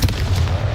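Short, punchy Confringo fire blast spell explosion from Hogwarts Legacy, a loud close boom that sounds alone for under a second.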